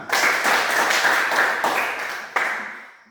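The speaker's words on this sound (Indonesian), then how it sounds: "Berikan tepuk tangan." Classroom applause from a group, a steady wash of clapping that holds for about three seconds, with one sharper clap near the end before fading.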